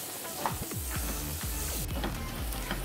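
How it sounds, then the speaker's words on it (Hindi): Onions fry in a pan for dhaba-style paneer do pyaza, a continuous close sizzle with occasional scraping and stirring sounds. "ये खूब अच्छे से भून रहा है।"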